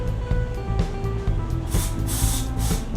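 Hissing aerosol spray in bursts into a mountain bike tire, the loudest near the end, over steady low background noise.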